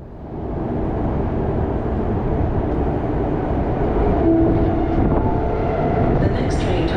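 A TransLink Canada Line SkyTrain, a 2008 Hyundai Rotem EMU with Mitsubishi IGBT-VVVF drive, rolls through steadily with a constant, close rumble and a faint motor whine, while a voice announcement plays over it.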